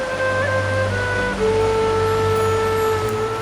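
Water rushes over a waterfall that feeds the Blatašnica river near Zvonačka Banja in the Jerma canyon. The wash is steady and broadband, with a faint sustained tonal hum running beneath it throughout.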